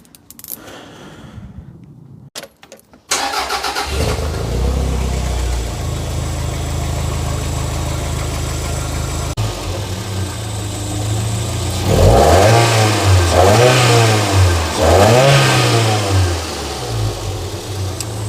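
A Toyota MR2 SW20 with a 3SGE engine cranks and fires, settles into a steady idle, then revs up in several rising and falling throttle blips, loud and close, with no talking.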